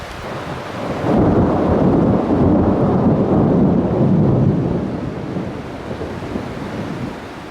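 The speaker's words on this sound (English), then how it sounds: "Got quite the thunderstorm going right now." Thunder rolls through a rainstorm in the Canadian Rockies, heard from a travel trailer: a loud, deep rumble swells after a second and slowly fades over steady rain, with no one speaking.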